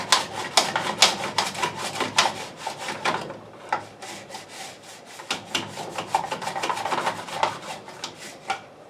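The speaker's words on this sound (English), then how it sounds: "So we put it on the mandolin here and get slicing on these." Potatoes are sliced on a mandoline slicer in a kitchen, a close, rhythmic series of scraping rasps repeating rapidly, with a short pause midway before the strokes resume.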